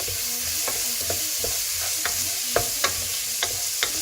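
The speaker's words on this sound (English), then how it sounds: "Fry this till the onions become more or less well cooked, maybe a little brown." Onions for a one-pot vegetable biryani fry in a pot with a constant hiss, while a utensil scrapes and stirs in regular, clicking strokes.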